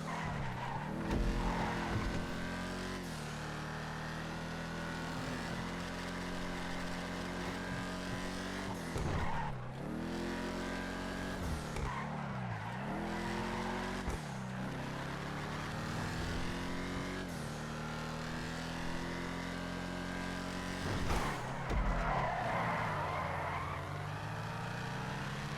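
Tires of a Vapid Dominator GT skid and squeal around corners during a hot lap in GTA Online, layered over a loud, steady engine roar with repeated rising and falling revs, no talk.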